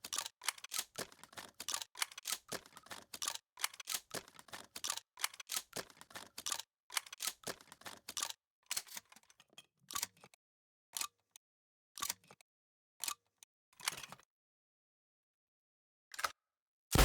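Shotgun reloading in a video game comes as a rapid string of sharp mechanical clicks and clacks, dense at first, then thinning out into a few sparse, isolated clicks separated by silence.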